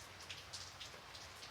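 Steady rain patters on a surface, a soft continuous wash with scattered drop taps, faint and unbroken with no voices.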